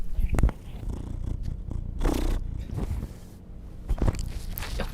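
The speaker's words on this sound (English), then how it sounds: "Maybe he'll purr at you." A cat purrs up close in a sewing room, a low continuous rumble with rustling and a few bumps and handling noises over it.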